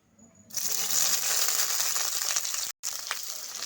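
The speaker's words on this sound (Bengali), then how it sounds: "কড়াই তেলের মধ্যে এবার দিয়ে দিচ্ছি আমি পেঁয়াজ কুচি।" Chopped onion hits hot oil in a wok and bursts into a loud, steady hiss that holds without letup, broken only by one brief gap near the end, while cooking a red spinach dish.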